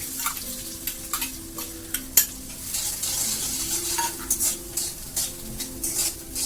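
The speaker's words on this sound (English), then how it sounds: "Now I'm going to add onion." Onion hits hot oil with cumin seeds and curry leaves for dal fry, a bright continuous sizzle with repeated scraping stirs and spoon taps against the pan, close and alone.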